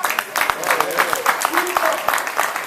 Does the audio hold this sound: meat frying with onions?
no